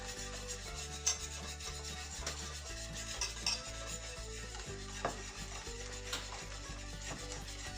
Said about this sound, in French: On mélange un peu tout et hop, on vient tranquillement verser notre lait dans notre préparation